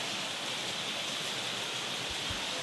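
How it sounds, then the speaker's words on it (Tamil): Heavy rain falls in Chennai, a constant, even hiss of water with no pauses or drops standing out, faint and steady throughout with a couple of low thumps near the end. "மழை பெஞ்சுட்டு இருக்கிறது சரியான மழை"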